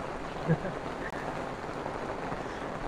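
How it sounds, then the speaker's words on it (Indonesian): Rain falls steadily near a hanging bridge on a mountain trip, a continuous soft hiss throughout with a faint voice briefly in the background. "Tapi hujan ini."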